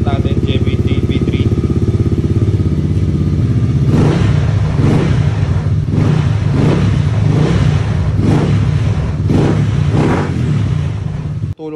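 A motorcycle fitted with a JBT V3 exhaust pipe idles with a steady rumble, then revs sharply in a series of about six or seven repeated throttle blips, loud and close, with talking over it.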